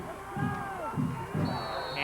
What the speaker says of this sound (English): Indian crowd.